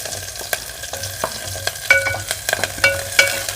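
Small shallots and curry leaves sautéing in a pan crackle with sharp pops and a constant hiss, while a spoon scrapes and stirs in irregular strokes close by.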